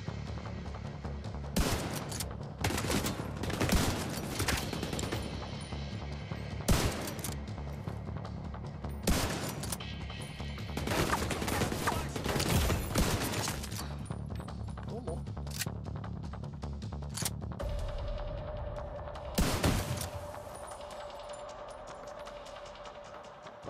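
Gunfire in the video game The Division 2, repeated bursts of automatic shots and sharp single cracks in clusters, with louder impacts scattered across the stretch and a player talking in between.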